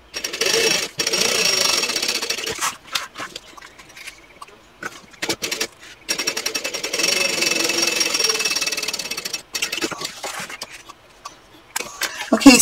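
A sewing machine topsstitches a handbag seam at a 1/8 inch seam allowance, whirring in three long, steady bursts separated by brief pauses and softer handling sounds.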